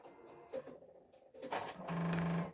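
A sewing machine at a craft table whirs briefly in short starts, then runs in a steady, louder hum for about half a second before stopping, with light clicks and handling noise around it.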